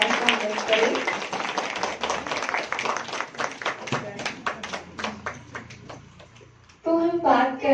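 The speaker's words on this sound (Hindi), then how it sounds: "आप सभी एक बार तालियों से उनका स्वागत करें" Audience applause welcoming guests at a Brahma Kumaris Women's Day programme, dense and fairly loud at first, then thinning into scattered claps before a voice cuts in near the end.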